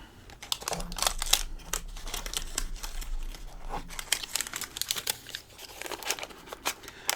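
Plastic packaging crinkles and tears while a new Google Pixel phone is unboxed, a close, continuous rustling with sharp crackles and rips all through, no voices.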